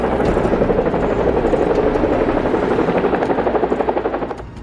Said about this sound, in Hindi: दोनों हेलीकॉप्टर एक बहुत बड़ी और शानदार हवेली के सामने मैदान में एक साथ उतरते हैं।